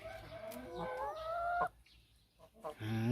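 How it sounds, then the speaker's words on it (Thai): Egg-laying hens clucking and cackling nearby in uneven phrases, with a short quiet gap before the clucks resume. "ไก่พันไข่ครับ"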